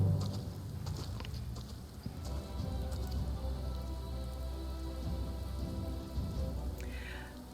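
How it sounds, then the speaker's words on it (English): Steady rain patters down in a video game scene, a constant soft hiss of drops with a few faint clopping sounds mixed in, heard alone without voices. "Let's get out of the rain."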